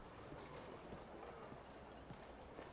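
Horse hooves clip-clopping in Red Dead Redemption 2, a steady close rhythm of hoofbeats over a dense broadband ambience, with no talking.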